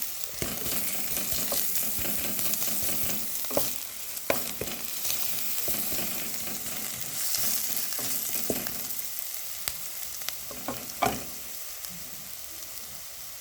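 Grated garlic and lightly fried onion sizzle steadily in a small amount of oil in a pan, with occasional sharp scraping clicks from stirring, close and continuous without voices.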